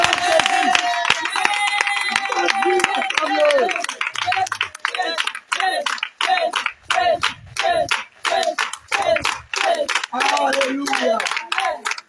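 A church congregation at an intense prayer night claps and cheers in praise of Jesus, dense rhythmic clapping and shouts filling the room, loud and continuous, with a leader's voice calling out over the crowd.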